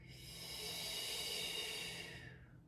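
A single long, steady exhaled breath during a slow mobility stretch, soft and breathy with a hissing airy texture, swelling gently and fading out, close to the mic with no talking.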